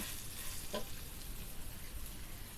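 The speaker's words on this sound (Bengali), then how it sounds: "এবার খুব অল্প আঁচে চালগুলোকে আমি ভেজে নেব" Pulao rice frying on a low flame in a pan, a soft steady sizzle with faint crackle and a brief stirring scrape near the start, close and fairly quiet.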